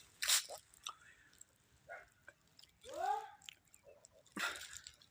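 Crisp bites and chewing on a sweet guava picked in an orchard: a sharp crunch at the start, then wet squishing and chomping close to the mic, ending with another crunchy bite.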